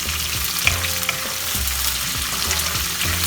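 Sliced onions and four green chillies frying in a pan over medium-high flame for palak chicken, a loud, steady close sizzle with a few light stirring taps.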